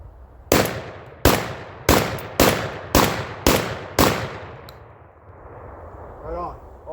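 A Panzer EG200 shotgun fires Winchester game and target shells in seven sharp, loud blasts at a quick, steady rhythm, each with a short ringing decay, followed by quiet.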